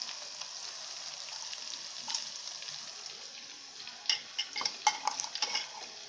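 Fish frying with masala in a pan, a soft, steady sizzle with a few spatula scrapes and pops toward the end, faint and close, with no voices.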